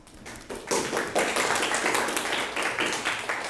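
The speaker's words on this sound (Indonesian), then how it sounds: "Berikan tepuk tangannya ya." A classroom of students applauding together: a burst of dense hand clapping that starts after a brief pause and continues steadily, fairly close, with a faint voice at the very start.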